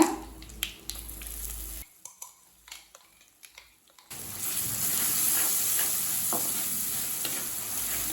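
Ground chana dal is stirred into a pan with dried red chillies, curry leaves and asafoetida for banana flower poriyal, first with a few scraping clicks and quiet pauses, then a steady close sizzle of frying.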